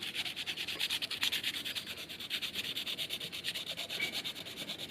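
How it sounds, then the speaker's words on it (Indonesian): A fishing rod is sanded by hand with sandpaper in fast, steady back-and-forth rubbing strokes, close and continuous, with no talking. "bisa menggunakan amplas seperti ini"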